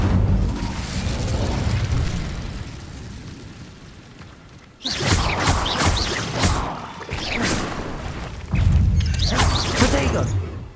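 Incendio fire spell cast in Hogwarts Legacy, a deep booming burst with a fiery whoosh, repeated in several heavy blasts separated by quieter rumbling stretches.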